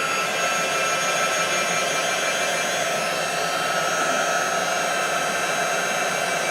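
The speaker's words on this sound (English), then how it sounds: "I like to try to let my heat gun warm up just for a couple seconds." A heat gun warms up for heat embossing embossing powder, blowing a loud, steady, even roar from start to finish with no talking.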